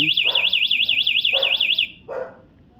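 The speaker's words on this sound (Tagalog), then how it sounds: "alarm" A loud warbling siren from a 48-volt ebike's anti-theft alarm, triggered through its keyless switch, wails steadily for nearly two seconds, while a dog barks three times alongside it.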